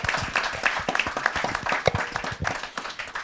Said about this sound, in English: I want everyone to make a great clap for yourself, guys